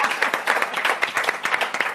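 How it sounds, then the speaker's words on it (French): Studio audience clapping for a team captain on a French quiz show, a dense, lively burst of applause lasting the whole moment, close and fairly loud. "Applaudissements."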